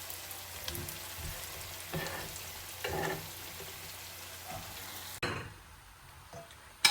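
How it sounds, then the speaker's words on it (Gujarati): Steamed gram-flour vegetable dumplings (muthiya) sizzling and crackling as they are tempered in hot oil, with occasional stirring scrapes, then the sizzle drops off abruptly near the end. "મૂઠિયા સરસ વઘારીને રેડી થઈ ગયા છે"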